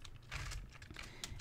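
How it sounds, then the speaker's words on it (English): Fingers tap a computer keyboard in a quick, uneven run of soft clicks, close but quiet, with no voices. "I'm typing it out."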